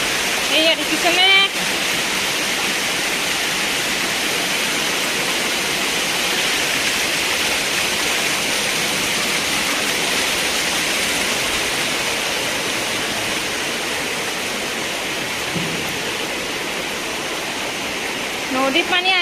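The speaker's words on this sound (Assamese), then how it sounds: "নদীত পানী আহিছে নদী ছিঙিছে" Floodwater rushing in a swollen river, a steady loud broadband roar of surging water that continues unbroken throughout, close and dominant.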